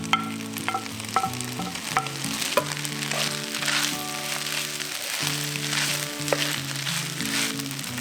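Shrimp and basil frying in a pan for Thai basil fried rice, a continuous close sizzle with stirring and scraping, no talking.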